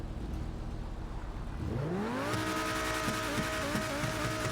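A Jeep's engine in Grand Theft Auto V revs up, its pitch sweeping higher and then holding a steady whining roar, loud and mechanical.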